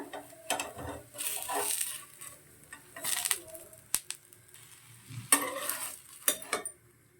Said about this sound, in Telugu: ఇప్పుడు దీని మీద కొంచెం ఆయిల్ రెండు చుక్కల ఆయిల్ వేసుకుందాం